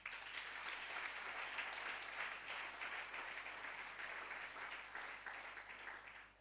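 A church congregation applauds together, a dense sustained patter of many hands clapping at a fair distance, steady for several seconds before tapering off.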